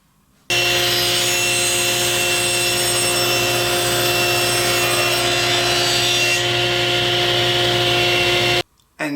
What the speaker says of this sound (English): I'm going to rip some 3/4 inch plywood that is just shy of 1 1/4 inches